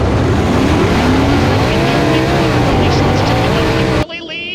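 Sprint cars roar at full throttle around a dirt speedway heat race, a dense continuous engine howl with rising and falling pitch as the pack passes close, ending abruptly.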